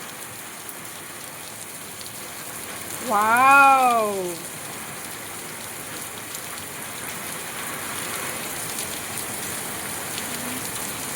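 Heavy rain pours steadily as a dense, even hiss that fills the whole stretch, with a single brief spoken exclamation near the start.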